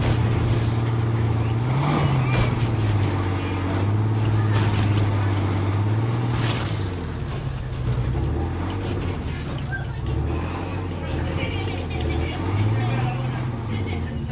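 A truck engine in State of Decay 2 revs and rises and falls in pitch as it accelerates in repeated surges, staying loud and continuous throughout.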